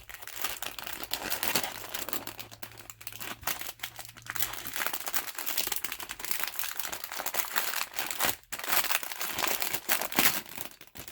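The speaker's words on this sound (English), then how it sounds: "Get the crinkles out of the way." Plastic wrapping from a Para Bellum Games miniature model kit crinkles and crackles close up in continuous handling, with a few sharper crunches and no talking.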